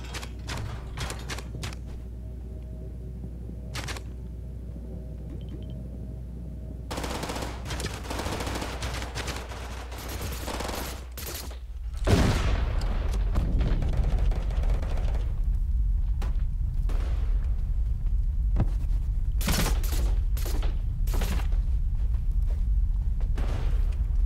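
Video game combat with rapid bursts of gunfire and a heavy grenade explosion midway, followed by a sustained low rumble and continued scattered shots.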